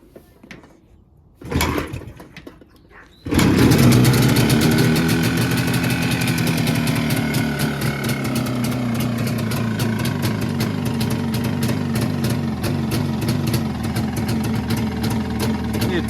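Jawa 354 motorcycle with magneto ignition, no battery: a couple of kick attempts, then the engine catches and settles into a steady, close, fast idle that runs on evenly.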